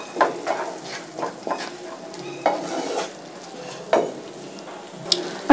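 Arbi (arum root) masala frying over high heat in a pan, with steady sizzling under repeated scraping and clinking stirs of a spoon against the pan, no voices.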